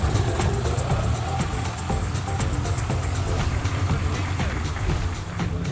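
At the Cité de l'Automobile in Mulhouse, a vintage car engine that has been started with a crank handle chugs and rumbles steadily and fairly loudly, with a busy mechanical clatter throughout.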